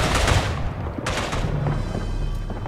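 Gunfire in the World War I shooter Verdun on the Argonne map, loud sharp repeated cracks in quick bursts over a rumbling battlefield background.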